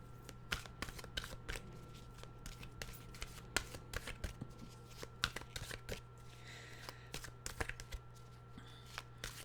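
Tarot cards being shuffled before a card is drawn, a quiet close-up run of crisp riffling flicks and soft slaps in an irregular rhythm over a faint steady hum.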